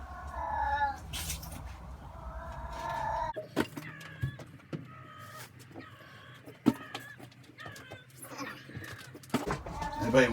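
Several cats meowing and yowling in repeated calls, close by, with a person speaking intermittently between them.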